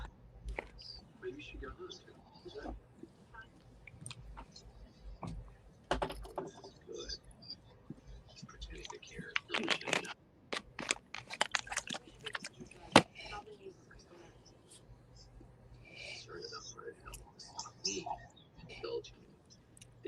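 Close, faint, wet chewing of turkey egg and spicy pepper comes in irregular bursts of small crunches and mouth clicks, busiest in the middle, with soft talk in between.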